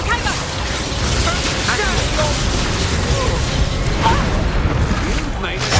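Expelliarmus spell cast in Hogwarts Legacy during a duel, with a dense mix of mechanical clatter, bursts and pops over steady game noise and a voice speaking throughout.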